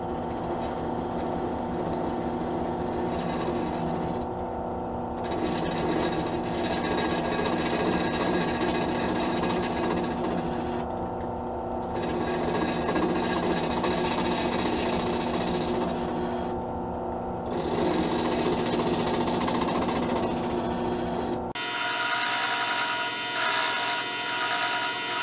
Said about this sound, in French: Ok, fait que là, on va commencer à usiner.